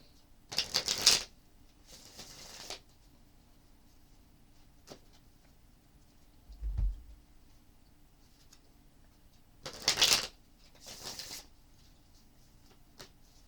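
Two bursts of tarot-style cards being riffle-shuffled during a spiritual card reading, each a quick pair of crisp ruffling sweeps, separated by a long quiet pause with a soft thud between.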